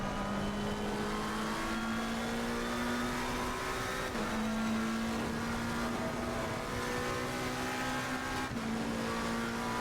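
A race car engine in a racing video game holds a loud, steady roar across the whole stretch, with pitch climbing through the gears and dropping at each shift, and faint tire noise underneath.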